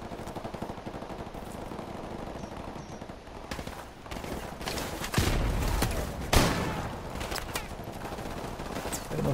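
Automatic weapons fire in Call of Duty Modern Warfare: rapid, rattling bursts of gunfire with sharper, louder shots and a couple of heavy bangs midway, continuous and fairly close.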